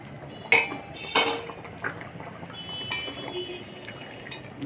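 Fish and bori dropped into a cooking pot give a few sharp clinks and knocks of metal utensils, followed by quieter scraping and faint frying.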